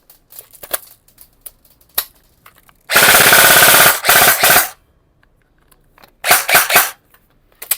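A G&G ARP9 airsoft gun fed from a drum magazine fires two loud, rapid full-auto bursts, one longer and one shorter, separated by quiet handling clicks.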